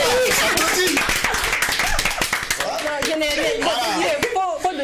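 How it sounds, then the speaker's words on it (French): Brief, uneven clapping for a guest at a French holiday show, with a few scattered sharp slaps amid loud crowd chatter and voices throughout. "Applaudissez pour l'invité."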